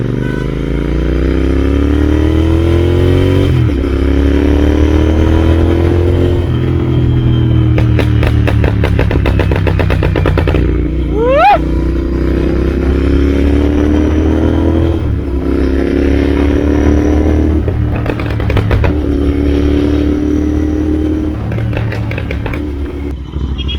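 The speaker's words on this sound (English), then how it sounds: "Accelerate again, the pops don't stop. Actually, it's fucking loud." A Royal Enfield Interceptor 650 with a tuned ECU revs loudly and close by, its engine note rising and falling while sharp crackling exhaust pops burst out in clusters between throttle blips.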